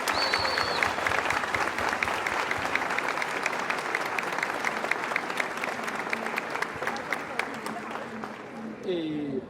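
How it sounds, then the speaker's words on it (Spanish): Book-fair audience at a talk in Bogotá gives sustained, even applause, a thick continuous clapping wash from a large room that ends abruptly with a short voice at the close. "les propongo que le demos para arrancar un aplauso por esta tarea gigantesca"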